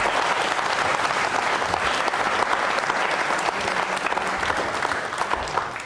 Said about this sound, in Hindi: तालियां बजाइए उनके सम्मान में आप।